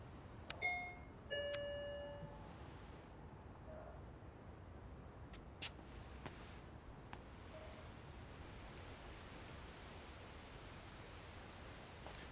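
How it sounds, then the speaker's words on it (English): Rain falls in the video game Lost Judgment, a soft, steady hiss that stays faint throughout, with a few brief chime-like tones near the start. "Oh, it's raining."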